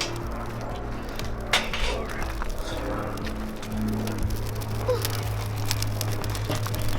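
Charcoal pours and tumbles into a hot grill fire while steaks cook, giving a steady spread of clattering, crackling and rustling bits over a low rumble, with a few sharper knocks near the middle and end.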